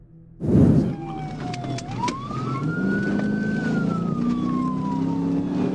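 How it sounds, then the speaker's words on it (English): A police car siren wails steadily after a loud burst of engine noise during a pursuit, its pitch rising and falling slowly over heavy traffic rumble. "Sirens wailed and lights flashed, but he refused to stop."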